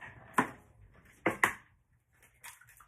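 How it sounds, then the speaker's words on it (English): Two eggs are cracked against the rim of a measuring cup: a couple of sharp close knocks followed by a soft wet splat and faint rustling, no talking. "I've got 2 eggs right here, and I'm gonna break those into this measuring cup."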